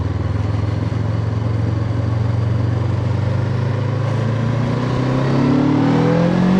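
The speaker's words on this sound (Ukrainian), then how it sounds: "Повний газ. Повністю відкритий." A KOVE 510 X motorcycle pulling at full, wide-open throttle, its loud close-up engine note climbing steadily in pitch, then a brief shift and rising again near the end, with no talk over it.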